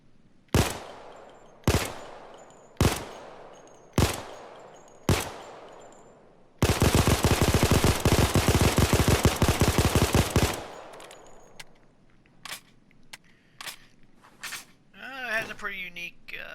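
Glock 17 pistol, the Chimano 88, firing in the video game Payday 2: five sharp, evenly spaced single shots, then a dense rapid burst lasting about four seconds, followed by scattered clicks and mechanical handling sounds, loud and close.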